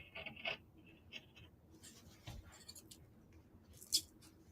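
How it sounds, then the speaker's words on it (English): Large, very sharp LDH sewing shears cut through fabric, giving quiet, close snips and soft scraping rustles in a hushed room. "And let's cut them out over here. I'm going to be careful with the scissors."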